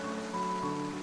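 Rain falls steadily as a constant dense hiss over a low hum and sustained tones, with no voices.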